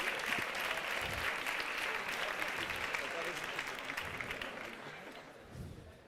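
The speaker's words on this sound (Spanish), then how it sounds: "aplausos si queréis" A live audience at a Spanish talk show about democracy breaks into sustained applause, a dense wash of clapping that holds steady throughout and eases slightly at the end.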